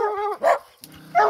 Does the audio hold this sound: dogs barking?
yes